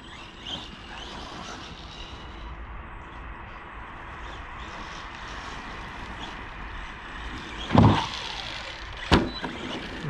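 A stock Arrma Senton BLX RC short-course truck on a 2S LiPo, run at full throttle over muddy ground, gives a steady broad rushing drive noise with two sharp, loud bursts close together near the end.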